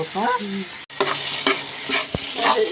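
Leafy greens being stirred and fried in a pan, with loud, close sizzling and a few scraping strokes of a spatula, plus a brief thud and some short voiced sounds at the start.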